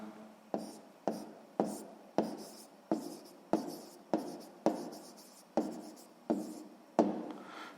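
Pen on paper writes out a sixth-grade math answer in about eleven short, evenly spaced scratchy strokes, close and quiet, with no talk.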